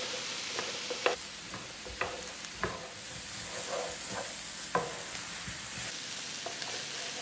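Onions cook in a skillet while their liquid deglazes it, giving a soft, steady sizzle with scattered sharp scrapes of a utensil across the pan; there is no talk.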